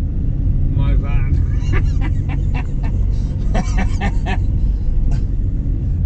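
A van rolls along a UK road, its loud, constant low engine and tyre rumble filling the cabin while people talk over it.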